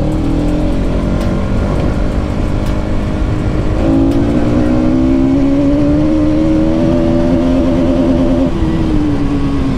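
A Bajaj Pulsar NS200 motorcycle, a 2023 BS7 model, accelerates hard in third gear, its engine note climbing steadily and loud and close throughout, with a brief shift in pitch partway through and no talking.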